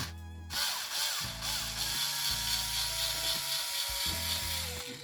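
A small power tool whirs and chatters in short bursts while spinning a nut off the underside of an old Traxxas Stampede RC truck, close and fairly loud with brief pauses and no talk.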